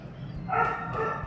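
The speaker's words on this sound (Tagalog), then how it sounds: "Pasensya niyo yung peste kong aso dyan, nakakita naman kasi ng pusa." A pet dog yips and barks at a cat, a short burst of excited, fairly close bow-wows with no talk over it.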